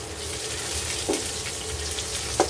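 Panch phoron whole spices frying in hot oil in a home kitchen, giving a steady soft sizzle and crackle with a couple of brief louder pops, close and alone.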